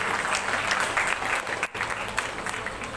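Strong audience applause at a women's empowerment awards ceremony, dense steady clapping that fills the whole stretch with a brief dip partway through.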